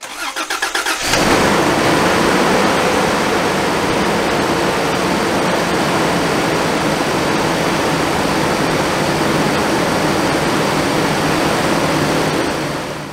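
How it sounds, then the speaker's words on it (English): A Toyota Land Cruiser 80 Series with the 1FZ-FE engine, in the shop for a rough-running misfire, cranks briefly and catches, then settles into a loud, steady running drone heard up close for over ten seconds. "Okay, so now we're going to go ahead and start the truck."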